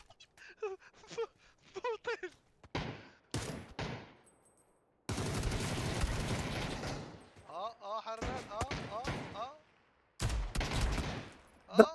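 Gunfire from the video game PUBG during a one-on-one match, heard as repeated bursts of automatic shots separated by pauses, with players talking in between.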